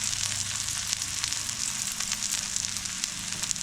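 Thalipeeth, a flatbread of wheat, rice and chickpea flour, fries in oil with sesame seeds on top, giving a steady, close, loud sizzle with crackling that runs without a break and without any voices.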